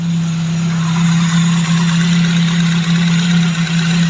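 A Tavria car engine runs just after starting, idling with a steady, loud, close hum and a slight uneven pulse, no talk over it.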